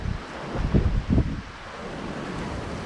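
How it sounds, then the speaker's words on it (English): Strong gusty wind, around 35 mph, buffets the microphone outdoors by the water during a catfish fishing outing, with two loud rumbling bursts followed by a steadier rushing roar. "look at that wind"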